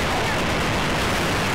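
Dense, continuous gunfire from the shooter video game Resistance, a steady loud wall of rapid shots and battle noise with no pauses.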